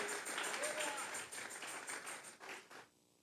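A church congregation claps in steady, rapid applause offered to God, a dense patter that holds for a few seconds, dips briefly, swells again, then fades into quiet.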